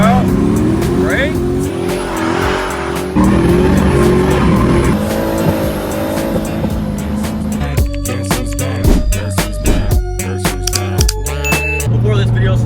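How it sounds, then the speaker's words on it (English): A manual car does a burnout, the engine revving hard and held high in a loud continuous roar, then breaking into choppier bursts with rising whines and squealing tyres toward the end; no talk is heard. "we're gonna teach you how to do a burnout in a manual vehicle"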